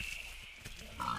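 Pig grunting in the video game Force of Nature, a short, low snort over a steady game ambience with a brighter tone rising at the end.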